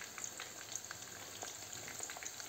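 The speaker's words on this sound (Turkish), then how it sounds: "Şimdi patlıcanları yağda şöyle kızartıyorum." Salted eggplants fry in hot oil for karnıyarık, giving a steady crackling sizzle with dense little pops. It is fairly soft, close up and free of talk.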